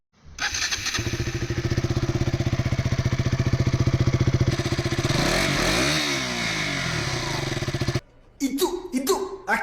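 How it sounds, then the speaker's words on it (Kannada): A KTM Duke 200 BS-3 motorcycle, built with Bajaj, idles loudly and close with a rapid, steady engine throb that shifts pitch as the throttle changes before cutting off, after which a voice briefly speaks. "ಒಂದ್ಸರಿ ಈ ಗಾಡಿ ಸೌಂಡ್ನ ಚೆಕ್ ಮಾಡೋಣ."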